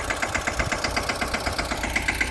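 A tractor engine runs nearby with an even, rhythmic chugging pulse and steady mechanical vibration, with no voices.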